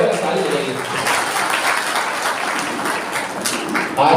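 Audience applause fills a hall at a community gathering in Indore: steady, dense clapping from many hands, with a voice talking over it.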